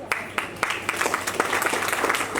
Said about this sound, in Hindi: कम ऑन एवरीवन, जोर भरी तालियां, जोरदार तालियां।